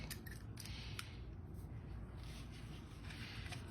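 Scissors snip paper while trimming an overlapping piece of a Christmas matchbook-style gift card holder, a few quiet crisp cuts near the start and end over a low steady background hum.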